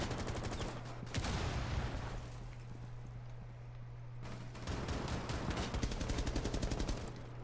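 A rapid, crackling stream of gunshots from a first-person shooter plays under a steady electronic hum, breaking into close bursts with a brief quieter gap in between.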